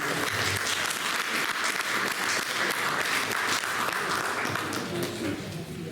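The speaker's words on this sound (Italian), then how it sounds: "Un applauso." Sustained audience applause fills a hall at an Italian evening poetry event, dense and steady throughout, with some crowd murmur mixed in and a slight fade near the end.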